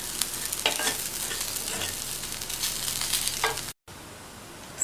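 Carrot poriyal stirred in a pan with coriander leaves added after the stove is switched off, soft sizzling and a few scraping strokes close by, broken by a brief cut to silence.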